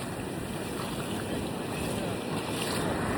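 Ocean surf surges on a beach in a steady, loud, broadband wash mixed with wind noise on the microphone, with no clear voices.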